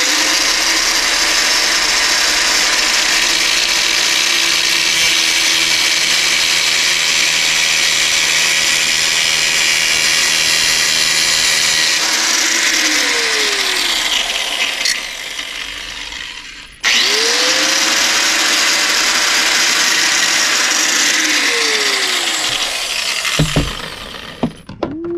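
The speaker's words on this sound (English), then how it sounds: "zip wheel. Really good for metal fabrication." A power tool fitted with a zip wheel used for metal fabrication whines loudly at high speed, spins down once, restarts sharply and winds down again with a few clunks at the end.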